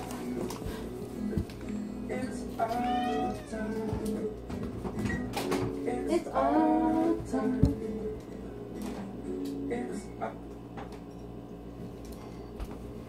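A young male cat meows indoors behind a person talking, with a few rising, drawn-out cries standing out above room noise and low background sound.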